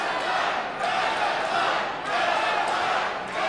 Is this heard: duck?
no